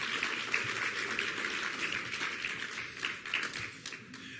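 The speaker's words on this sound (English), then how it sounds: "One more round of applause for Secretary Perez" Audience applause at a Hispanic health summit fills the hall for Secretary Perez, a steady, moderately distant wash of many hands clapping throughout without a break.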